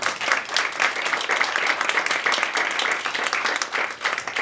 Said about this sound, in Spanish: Gracias por el cálido aplauso.